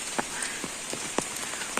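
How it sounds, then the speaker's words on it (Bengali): Steady rain falls close by, pattering on a surface with scattered heavier drops landing throughout. "বৃষ্টি যেভাবে হইতেছে হতেও পারে পানি আরো বৃদ্ধি পাইতেও পারে"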